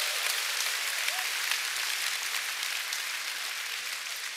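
Seminar audience claps in a dense, even wash of applause, steady and fairly loud for several seconds before easing slightly.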